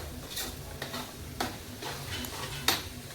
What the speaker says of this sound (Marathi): परत भेंडी तळून घ्यायची होती पण असं तळून